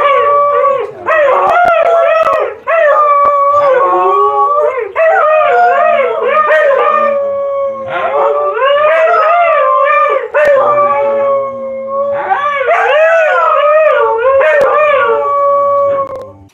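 Several huskies howl and yip together in snow, a loud, continuous chorus of wavering overlapping howls with short barks mixed in, close to the listener and with no talking.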